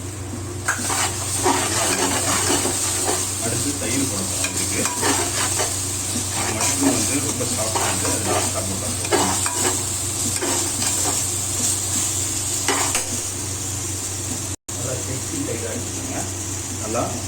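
Mint and coriander fry and get stirred in a pan for a vegetarian biryani, a steady sizzle with scraping stirs running throughout beneath someone talking.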